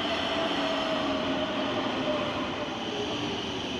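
A metro Line B train rumbles steadily into a Rotterdam station, a continuous loud roar of wheels and motor with a faint high squeal running underneath.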